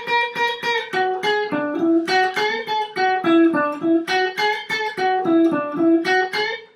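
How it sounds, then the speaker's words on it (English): A guitar plays a common Indian blues lick: a quick, rhythmic run of plucked single notes that repeats and bends around a few pitches, clear and unaccompanied with no speech. "This is a common Indian blues lick."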